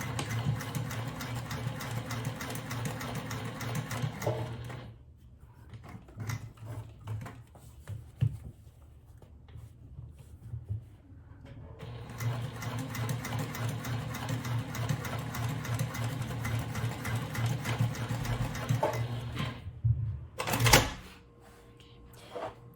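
A sewing machine stitches fabric for a hobo bag in two long bursts of steady mechanical whirring, pausing briefly in between and ending with a few short clicks and a thump.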